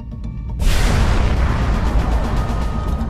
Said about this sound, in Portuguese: A supernova é a explosão colossal de uma estrela no fim da vida. Ela faz simplesmente BAM!